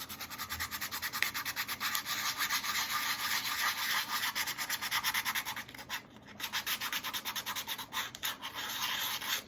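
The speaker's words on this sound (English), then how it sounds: "So I'm gonna sand this. I'm gonna use a 120 grit." A snow globe base being sanded with 120 grit sandpaper, steady rhythmic rasping strokes close to the mic, with a brief pause partway through before the scrubbing resumes.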